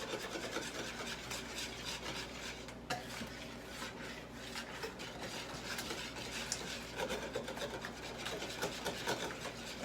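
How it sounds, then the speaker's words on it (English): A whisk scrapes and rubs through a batter of flour, baking powder, salt and eggs in a bowl, a continuous busy rasping with quick repeated strokes, close and fairly quiet, no talk. "just whisking in a little at a time"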